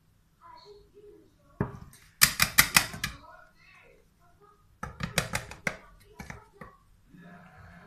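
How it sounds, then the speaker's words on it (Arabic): Flour being sifted through a sieve makes sharp rapid tapping bursts, two clusters of quick rattling knocks, close and fairly quiet, with faint speech between them. "هننخله كده"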